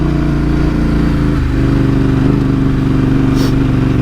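A loud off-road motorcycle engine runs steadily while riding a dirt road, with a constant droning hum close to the rider and no talking.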